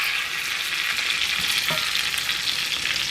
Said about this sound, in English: Now we're just gonna do a little basting over everything.